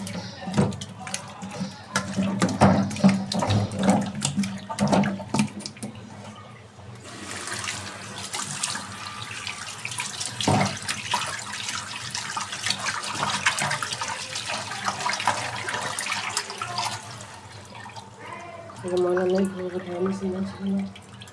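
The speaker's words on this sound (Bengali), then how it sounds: "মাছগুলো আমি ধুয়ে নিতেছি ভালোভাবে" Tap water runs into a sink while fish are washed by hand, with splashing and sloshing bursts and a steady rush of water. Voices talk over parts of it, and dishes or a pan clatter now and then.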